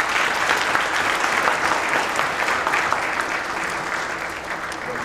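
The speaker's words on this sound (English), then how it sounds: "please give them another round of applause" A summit audience applauds in a large hall, a dense, even wash of many hands clapping that holds steady throughout.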